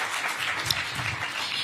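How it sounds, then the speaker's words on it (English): Brief, fairly faint applause from an audience at a live intergenerational dialogue event, cheering a doctor after her talk. It forms a short, steady patter of clapping with no speech over it. "Another round of applause for Dr."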